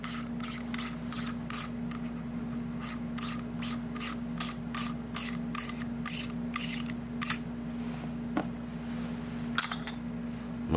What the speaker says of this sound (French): c'est vraiment de prendre une paire de pinces pointues puis de venir la mettre en arrière. Ça, vous allez pouvoir bien dévisser